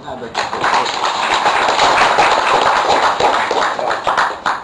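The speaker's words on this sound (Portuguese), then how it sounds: "doutor Germano Machado, uma salva de palmas" An audience at a memorial gathering breaks into applause, a thick wash of clapping that rises quickly and holds, with voices talking underneath.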